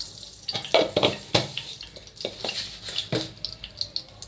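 Mustard seeds crackle and sizzle in hot oil in a pan, with irregular sharp pops and a few clinks of a spoon against the pan, close and fairly loud with no talking.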